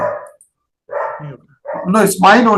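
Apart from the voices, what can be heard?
dog barking near a house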